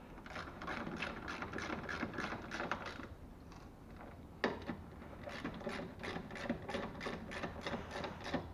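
A ratchet wrench tightens the upper strut mount bolts on a Lada Priora front strut, clicking rapidly and close in steady bursts, with a brief pause partway through and no talk.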